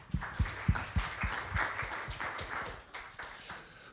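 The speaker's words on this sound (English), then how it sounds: "Quick round of applause." A small audience claps at a conference panel event, the claps landing in a quick, fairly regular rhythm at moderate loudness before thinning out.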